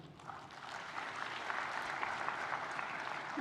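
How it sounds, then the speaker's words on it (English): An audience applauds at the opening ceremony of a business forum in Kigali, a dense sustained clapping that swells slightly and carries on steadily for a few seconds with no speech over it. "M. Wankele Mene, que je vous demande d'applaudir s'il vous plaît"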